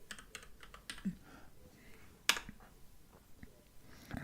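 Soft, irregular clicks of typing on a computer keyboard, quiet and close, with one sharper louder keystroke near the middle and scattered taps.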